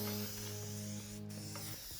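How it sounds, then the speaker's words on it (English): A can of satin-finish aerosol paint sprays close by while a wooden mantel is being painted. The hiss is continuous and breathy, with a couple of brief dips over two seconds, and no one speaks. "The fresh cans are gonna spray horizontally better than when they start to get empty."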